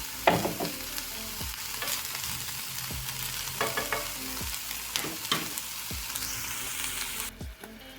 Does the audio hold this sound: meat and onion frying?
yes